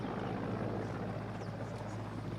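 A military helicopter at a Ghana Armed Forces combat firepower demonstration at Bundase, its rotor and engine making a loud, steady, close droning roar throughout.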